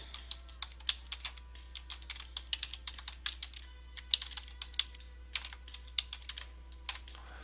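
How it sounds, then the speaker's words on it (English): Rapid bursts of typing on a computer keyboard, crisp close key clicks in uneven runs over a low steady hum, no one speaking. "Let me just type it in here."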